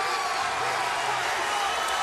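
A hometown crowd at a boxing match cheering for the Huntington, New York fighter in the ninth round: a sustained, dense roar of voices and applause, loud and steady throughout.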